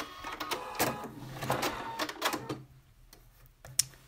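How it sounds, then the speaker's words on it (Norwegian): A Husqvarna Viking sewing machine finishing a seam and trimming its own thread, a close burst of mechanical whirring and clicking that stops, then one sharp snip-like click in near silence. "Så da klipper han tråden av seg selv."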